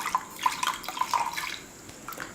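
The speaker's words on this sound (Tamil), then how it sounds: "கொஞ்சம் தண்ணி சேர்த்து அலசி சேர்த்துக்கலாம்." Water splashes and trickles into a pot in a quick series of close, bright plops and drips, with no voices.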